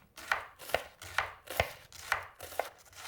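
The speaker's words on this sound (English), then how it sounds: "then you just cut your onions so you're dicing it" A knife dices onions on a cutting board in a home kitchen, with about six crisp, evenly spaced chops close by and no talk.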